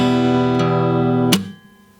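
Acoustic guitar chord from a guitar lesson rings sustained, is struck again lightly, then a sharp palm-muted percussive hit on deadened strings cuts it off, leaving a fading tail.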